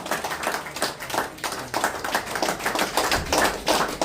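An audience clapping in a loose, fairly close rhythm, with sharp individual claps rising and dipping in waves over a few seconds.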